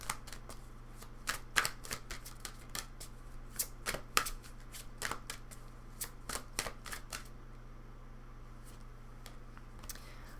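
Lenormand cards are shuffled in quick, crisp riffles and taps, close and fairly quiet, continuing steadily before fading near the end.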